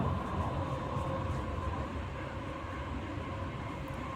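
A tram rolling along its rails, heard from inside the car with its high tilting windows open, a steady moderate rumble of wheels and running noise continuing without any voices.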